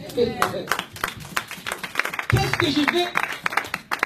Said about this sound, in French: Pourquoi ne pas applaudir pour votre Seigneur?